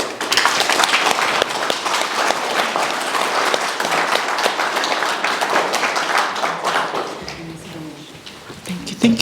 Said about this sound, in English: another round of applause for Ms. Lavesh Kishore